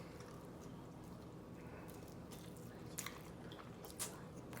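Close, soft chewing of a mouthful of sushi bake, a Japanese baked rice and seafood dish, with faint wet squishes and a couple of small crunchy clicks over low room noise.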